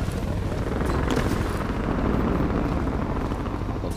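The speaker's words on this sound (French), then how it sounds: "Entend en hélico." A steady, loud helicopter drone with a low thumping rotor from the video game Crysis 2, continuous throughout and uninterrupted by speech.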